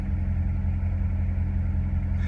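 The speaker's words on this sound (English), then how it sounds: "So there's kind of a demonstration on your different modes, your exhaust, dual mode exhaust" A 2015 Chevrolet Corvette V8 with dual mode exhaust idles steadily with the valves open, a deep, loud, continuous rumble close by with no talking.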